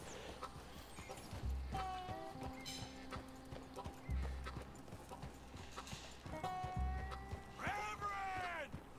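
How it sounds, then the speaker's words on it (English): Horse hooves clip-clop at a steady riding pace in Red Dead Redemption 2, close and clear, with several whinnies and neighs rising over the hoofbeats. "let's get on this horse and we might have to have our lasso out and ready"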